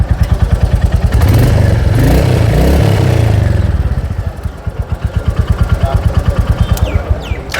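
A Royal Enfield Classic motorcycle idles loudly and close, its exhaust thumping in a steady, even beat, with a brief swell in engine note partway through, and no one speaks.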